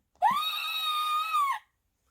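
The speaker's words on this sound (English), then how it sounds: "When she saw Kong, she screamed." A woman screams in terror in a jungle monster story: one loud, sustained, high-pitched shriek lasting just over a second, alone and with no talk.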